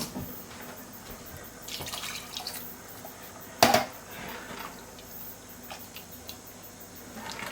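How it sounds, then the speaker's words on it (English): Half a can of water poured into a pot of vegetable soup, soft trickling and dripping with one brief splashy pour in the middle, quiet and close. "So I'm just going to add another half a can of water."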